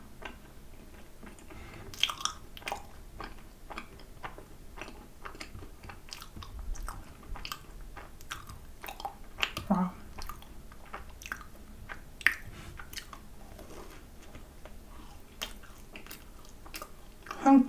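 Close chewing of macarons filled with mozzarella cheese, soft squishy bites and moist smacking repeated throughout, quiet and near.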